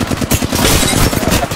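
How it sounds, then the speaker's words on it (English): Loud, close automatic gunfire in the video game Apex Legends, played as Octane: a dense, continuous burst of rapid shots that fills the whole moment, with no voices over it. "Opening fire."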